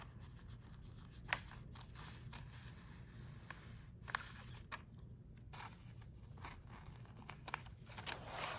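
Scissors snip through a 2025 Aura Estelle x Annie Plans daily B6 paper planner: a few faint, sharp cuts and crinkles over quiet room hum, close by and without talk.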